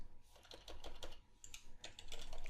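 Typing on a computer keyboard to enter a new app name, a quick close run of light key clicks in short bursts, quiet and with no talking.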